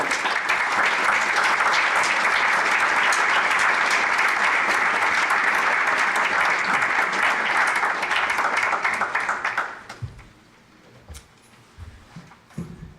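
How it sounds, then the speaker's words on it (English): Audience applause at a university inaugural lecture, a dense, steady roar of many hands for about ten seconds before cutting off abruptly, followed by quiet room noise and faint handling sounds. "let us give a round of applause to Olaf for this"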